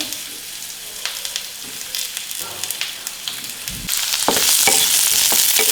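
Green chillies, broken by hand, sizzle and crackle in a hot pan for spinach pulao, a steady frying hiss with scattered pops and stirring clicks that grows louder and fuller in the last couple of seconds.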